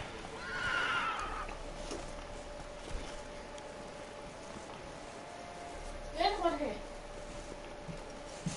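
Horse neighing in the video game Witcher 3: a clear whinny around the six-second mark over steady game ambience and music, with a fainter earlier call near the start.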